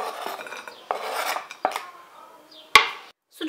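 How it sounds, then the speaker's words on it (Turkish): Sliced sucuk sausage pieces are dropped into a pan with a few light clatters and scrapes of a utensil against metal, close and fairly quiet, followed by one sharp knock. "Dilimlediğimiz sucukları hemen tavaya alıyorum."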